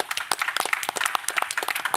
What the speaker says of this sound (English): Let's give a round of applause for that intervention.